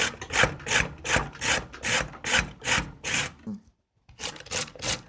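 Rhythmic back-and-forth rasping of peeled carrots and potatoes against a grater, about a dozen even strokes, a short pause, then more strokes.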